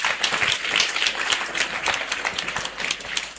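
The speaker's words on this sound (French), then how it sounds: "Alors applaudissez pour vous-même." An audience claps together at a religious gathering, dense lively applause with a few sharper individual claps, steady and fairly loud throughout before a sudden louder burst at the very end.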